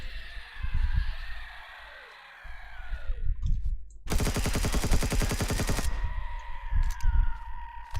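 Rapid automatic gunfire from a weapon in the video game Empyrion, fired in a dense sustained burst of about two seconds between quieter stretches of game ambience and synth tones.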